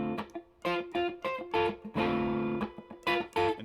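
Electric guitar playing a choppy rhythm part with the guitar volume rolled down, giving a softer, less driven tone; short strummed chords with brief gaps, clear and close, no talk.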